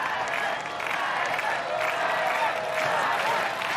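Crowd cheering and applauding at an American Ninja Warrior finals course in Minneapolis, a steady dense roar of many voices holding at the same level throughout.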